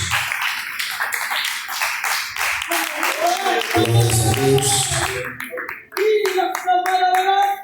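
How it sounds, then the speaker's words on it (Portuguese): Congregation clapping hands in a lively church service, rhythmic rapid claps running under a voice that speaks and then sings over the top, with the clapping continuing in the background. "Pode assentar as palmas bem alegres para Jesus."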